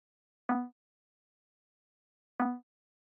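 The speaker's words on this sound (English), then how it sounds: "the first layer we have here is this little synth that plays in the build." A little tech house build synth one shot, played alone: two short, bright plucked hits about two seconds apart, each decaying quickly into silence.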